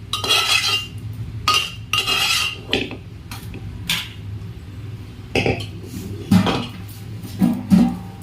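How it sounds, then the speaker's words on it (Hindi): Metal utensils scrape and clatter against a pressure cooker as cooked dal is tipped and scooped into a bowl, in several separate bursts with quiet pauses between. "इस बाउल में इसको पलट लेती हूँ, इससे कुकर खाली हो जाएगा"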